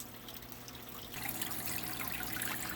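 Water runs and drips from an aquarium filter sponge as it is wrung out, a soft trickle that swells into a louder, steady splashing stream partway through.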